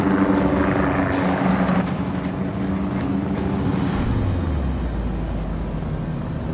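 A spotter plane launches from the battleship New Mexico in World of Warships, a steady propeller-engine drone under a low rumbling ship and sea backdrop, with a falling tone near the end and no talk.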